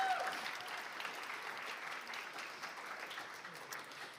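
Applause for election candidates at a results night, a crowd clapping steadily throughout, moderately loud and fading slightly toward the end, with a brief whistle at the start.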